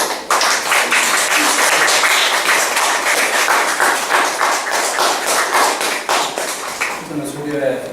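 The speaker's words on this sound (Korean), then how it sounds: "우리 강사님을 모실 때 박수로 환영하시기 바랍니다." A lecture audience in Korea claps in sustained, dense applause to welcome a speaker, loud and close throughout before it tapers at the end.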